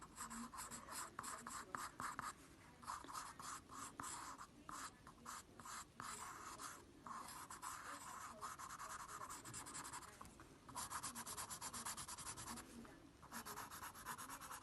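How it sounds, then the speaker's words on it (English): Pencil colouring in a drawing, a soft continuous scratchy rubbing of graphite on paper in quick back-and-forth strokes with brief pauses, faint and close. "you can use your pencil if you've not got black, and that is to colour in his eye"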